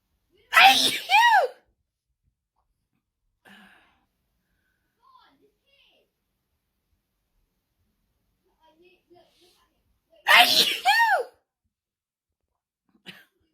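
Two loud bursts of sneezing, each a pair of quick voiced sneezes, near and separated by quiet stretches with faint small noises between.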